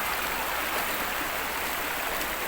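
A strong river current rushes steadily during a river crossing on a scouting outing, a broad continuous wash of flowing water, close and even throughout with no other distinct sounds.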